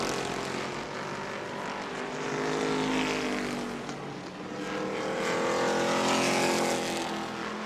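Race cars in a Hoosier Series event at New Smyrna Speedway roar past in loud, swelling waves of engine noise that rise and fall as the pack goes by, with no voices audible.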